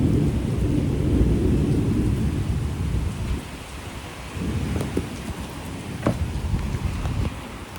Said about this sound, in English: That is where the rain is coming from.